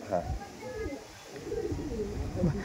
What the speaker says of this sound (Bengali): এই দেখুন এটা মাদি আছে, এটা চোখের পায়রা আছে